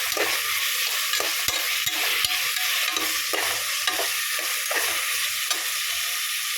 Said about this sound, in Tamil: தக்காளி வெங்காயம் நல்லா குழஞ்சி வர வரைக்கும் வதக்கி விட்டுக்கலாம்